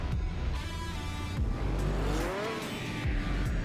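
A Porsche Carrera GT engine in the Car Mechanic Simulator 2021 video game revs hard, with rising whines and sweeping pitch climbs across several throttle blips over a steady engine drone.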